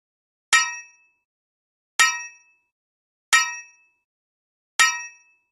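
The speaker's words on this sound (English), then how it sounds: "In this first game video, we see that the same repetitive sound is used for the sword impact." A video game sword impact repeats as the identical bright metallic clang four times at even intervals, each sharp hit decaying quickly into silence.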